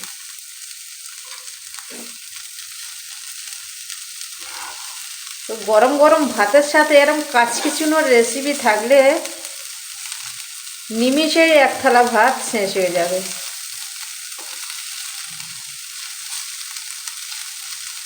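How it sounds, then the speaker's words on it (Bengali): Small kachki fish fry in a pan with a steady, soft sizzle running underneath while someone talks for several seconds at a time. "হালকা হাতে আবারও একটু নেড়ে দেব তো উল্টো দিকটা কত সুন্দর হয়েছে দেখুন বন্ধুরা ভাজা ভাজা মতো দারুণ হয়েছে"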